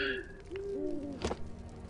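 Birds in the Lego Lord of the Rings video game give soft, hooting, cooing calls in a few short glides, followed by a brief sharp click, all fairly quiet and close.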